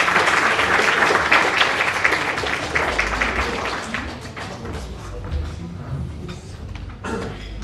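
Audience applause at an AABC dinner meeting welcoming a speaker, a dense steady clapping that fills the opening seconds and then thins and fades toward the end.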